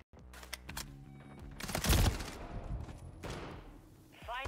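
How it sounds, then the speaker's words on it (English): Gunfire in the shooter Call of Duty Modern Warfare III: a few heavy shots and crackling bursts amid a noisy battlefield mix, fairly quiet overall, ending with a brief clipped radio-style voice. "Taking effective fire."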